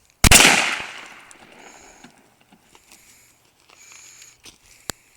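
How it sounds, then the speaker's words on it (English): A Stevens 12 gauge shotgun fires one loud, close blast that rings and decays over about a second, followed by faint outdoor rustling and small clicks. "That's the Stevens 12 gauge shotgun."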